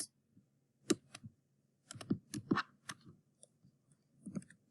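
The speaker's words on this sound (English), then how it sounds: "Same thing, I'm going to type this into Desmos." Sharp, irregular clicks of keys being typed on a computer keyboard into Desmos, coming in quick clustered bursts with short pauses, close and fairly quiet, with no talking.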